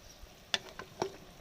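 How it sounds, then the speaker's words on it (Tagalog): A pot of lauya, an Ilonggo stew, bubbles and simmers with soft, sparse pops and splashes, faint and close, over a quiet kitchen background. "check natin kung kumukulo na. Ayan, kumukulo na."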